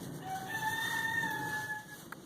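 Chickens at snowy winter coops, with a rooster's long crow and clucking in a quiet yard, moderately close and alone without talk.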